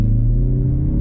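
Deep, steady engine rumble from a 2021 Mazda 3 GT turbo AWD under acceleration, loud and close, a brief continuous pull with no talk.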